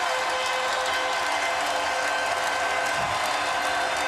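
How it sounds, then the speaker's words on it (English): A basketball arena crowd at an NBA Finals game gives Allen Iverson a standing ovation, a dense, steady roar of cheering and applause filling the whole stretch without letup. "Standing ovation for Iverson."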